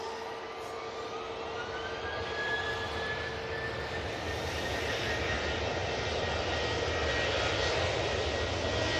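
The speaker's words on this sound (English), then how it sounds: "And we have the Ryanair on the roll." A Ryanair airliner rolls for takeoff at Manchester Airport, bound for Dublin, its engines giving a broad, steady roar that swells gradually over several seconds, heard from a distance with no talk.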